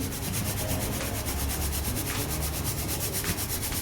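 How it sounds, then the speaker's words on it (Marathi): Thin flattened rice (poha) shaken through a sieve, giving a continuous dry rubbing, rustling hiss with a steady, even rhythm and no talk. "आता अशी एखादी चाळणी घ्यायची आणि त्या चाळणीतनं आपल्याला हे पोहे चाळून घ्यायचे आहेत"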